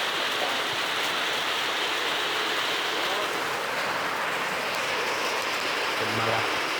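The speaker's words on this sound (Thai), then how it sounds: "ฝนมาแล้ว" Steady rain falls on a rural home, a dense even hiss lasting throughout at moderate level, with a brief low hum near the end.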